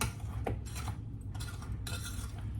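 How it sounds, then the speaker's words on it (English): Ripe bananas are mashed in a bowl with a utensil, giving soft, squelchy scrapes and light clinks against the bowl in short repeated strokes, faint and close. "Make sure my banana's good and mashed while I'm at it."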